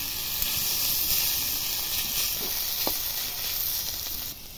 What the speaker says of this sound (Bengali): পটলটা খুব ভালো করে নেড়ে চেড়ে ভেজে নিচ্ছি।